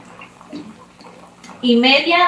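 Water runs into a cooking pot, a loud, bright splashing pour that starts abruptly after a woman's quiet speech in a kitchen.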